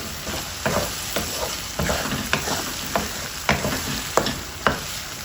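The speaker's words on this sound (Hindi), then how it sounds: "अभी थोड़ी तेज़ आंच कर देंगे कि अंडे की अच्छी तरह भुनाई हो जाए।" Egg filling for stuffed karela frying in a pan over rising heat, a continuous crackling sizzle broken by regular stirring taps and scrapes roughly every half second, close and fairly loud.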